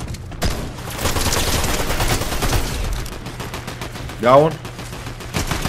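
Gunfire in a video game comes as rapid bursts of automatic shots under a voice speaking briefly, with loud volleys throughout and a sharp burst near the end.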